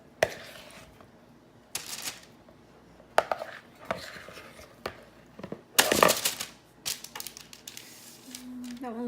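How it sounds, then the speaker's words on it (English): A spatula scrapes and taps against a bowl of keto green chile cheddar garlic biscuit dough in scattered sharp knocks and short scrapes, with quiet gaps between them and a voice speaking faintly in the background. "I'm like scraping the bowl and spatula and everything"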